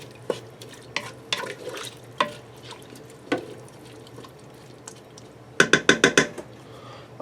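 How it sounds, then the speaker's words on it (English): Beef pot pie filling with beef broth being stirred in a Ninja Foodi pot, with scattered spoon scrapes and taps, followed by a quick run of five or six close, sharp clinks against the pot. "I'm just going to give this a stir to get it all mixed together"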